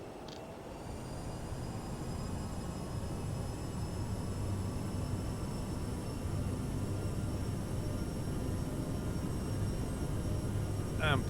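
Aerosoft CRJ jet engines in Microsoft Flight Simulator spooling up to climb power, a steady broad whine and rumble that builds slightly and holds, with faint clicks near the start and end.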